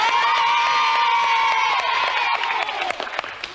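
An audience on a French children's TV show cheers and whoops loudly for a prize winner, with children shouting and scattered clapping in a continuous, dense crowd roar that fades slightly toward the end.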